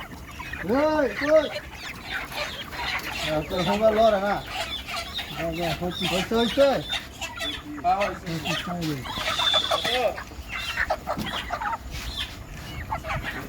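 Chickens cluck and squawk in a steady, busy chorus throughout at a poultry farm while being weighed for sale, with a few louder calls standing out over continuous background noise.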